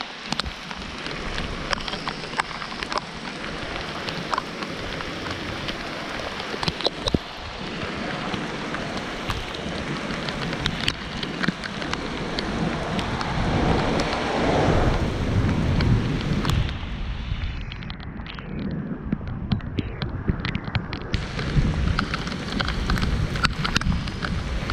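Heavy rain and rolling thunder during Storm Boris in Nottinghamshire, UK: a dense, loud, continuous downpour with deep thunder rumbling through it, no voices.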